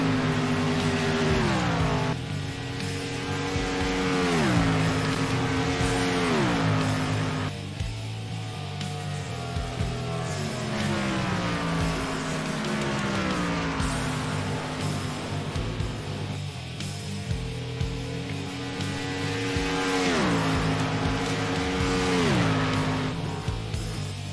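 NASCAR stock cars at Texas, including the Jack Daniels Ford Fusion, roar past in waves, their engines rising and falling in pitch as they sweep by. The sound is loud and continuous.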